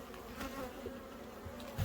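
Honeybees buzz around an opened hive during a warm January inspection, a steady close-up drone with no voices.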